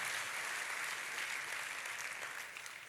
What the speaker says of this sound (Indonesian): Kita kasih tepuk tangannya pula yang paling meriah buat Tuhan.